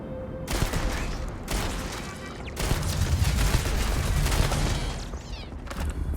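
Sustained turret fire in Starfield's Shattered Space, a dense, loud stream of shots and impacts running almost continuously with brief breaks, no talk over it.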